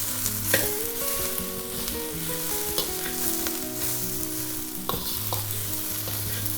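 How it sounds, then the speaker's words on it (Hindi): Cabbage, carrot and onion for chow mein are tossed with a spatula in a hot pan, giving a strong steady sizzle with repeated scraping and clanking strokes, close and loud, alone with no speech. "पलटे से हिला लीजिए।"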